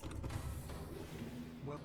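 A mechanical door on the Cyclops submarine in the Subnautica video game opening with a brief creaking, whirring mechanism sound over a low rumbling hum, followed by a short rising whine at the end.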